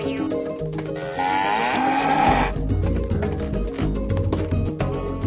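Two water buffalo bulls bellow as a sound effect in a Marathi children's Mahabharata story, a drawn-out lowing call rising over busy background music.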